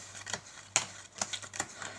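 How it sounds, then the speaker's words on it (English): Playing cards dealt down one at a time into roughly equal piles for a card trick, giving a series of sharp, light snaps at an irregular pace, close and clear. "So they will deal these cards down."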